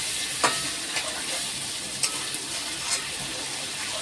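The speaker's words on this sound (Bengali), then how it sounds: "এবার আলুগুলো দিয়ে ভালো করে কষবো" Potatoes stir-fried with chicken in a pan give a steady low sizzle, broken by a few sharp scrapes and clinks of stirring spaced about a second apart, close and fairly quiet, with no talk.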